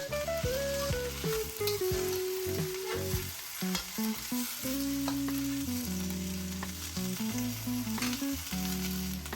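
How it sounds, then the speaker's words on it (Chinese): Small bok choy stir-fried in a wok gives a steady, close sizzle under loud background music, with the greens tossed continuously as they soften and shed water. "先炒一会儿，直到叶子变软，蒸发掉多余的水分。"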